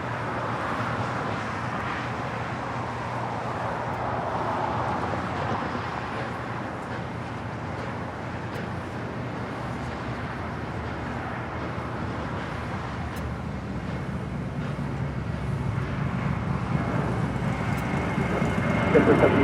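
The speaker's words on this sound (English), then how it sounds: "That is JetBlue Airways flight 1773 coming in from Newark in an A321." An Airbus A321 airliner arriving at Los Angeles International Airport produces a broad, steady engine roar that builds slowly over nearly twenty seconds, a distant rumble that swells toward the end.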